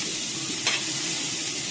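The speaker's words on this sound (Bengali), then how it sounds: "ফুলকপিটা হালকা করে ভেজে নিয়েছি" Cauliflower with turmeric fries in hot oil with a loud, steady sizzle, and one brief scrape of stirring partway through.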